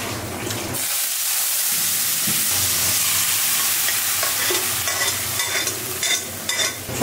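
Panch phoron spices tempering in hot oil over cooked potatoes, a loud, continuous sizzle and hiss close by that holds steady for several seconds with no voices.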